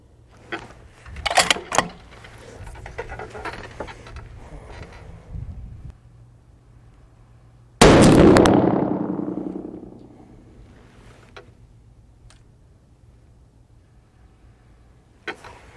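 A single loud rifle shot from a 6.5 PRC loaded with H1000 powder booms midway and decays over about two seconds, after some faint handling noise earlier.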